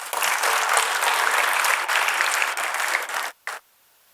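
Audience at a talk on liberal education clapping to welcome the speakers, a dense loud round of applause that holds steady for about three seconds, then tapers off and stops abruptly with a final brief burst.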